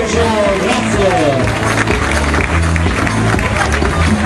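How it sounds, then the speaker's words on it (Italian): Audience applause at a vintage wedding dress fashion show in Sabbio, a crowd clapping steadily for several seconds while someone speaks over it and background chatter fills the room. "Un applauso alla signora Marcella"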